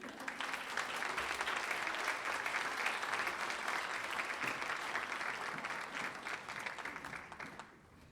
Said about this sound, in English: Could we have one more round of applause, please?